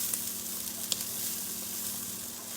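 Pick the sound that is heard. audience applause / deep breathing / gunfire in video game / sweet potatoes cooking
sweet potatoes cooking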